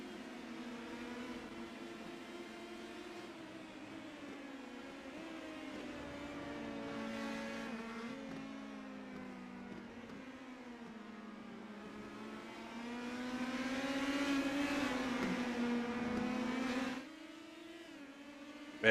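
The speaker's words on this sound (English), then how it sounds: "Nagisa is really hustling that race car at this point" An Indy Pro 2000 race car engine in iRacing at Indianapolis: a steady, droning engine note whose pitch rises and falls through shifts, growing louder near the end before dropping suddenly, with no talk over it.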